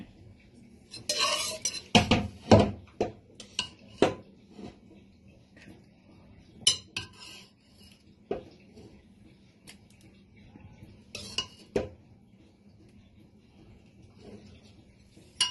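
Metal spoons and ladles scrape and clink against plates and a pan while pav bhaji is served, producing irregular sharp knocks and clatters with quiet gaps between them.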